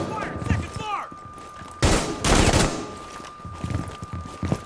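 Rapid gunfire bursts from Rainbow Six Siege, several loud clustered shot volleys around the middle with quieter scattered shots before and after, a steady game tone running throughout.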